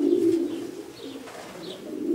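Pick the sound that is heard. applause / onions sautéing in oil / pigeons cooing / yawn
pigeons cooing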